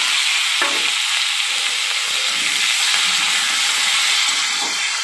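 Chopped raw tomatoes hit hot oil with chillies in a pan, giving a loud, continuous sizzle and hiss up close, with a few faint clicks of stirring and no voices.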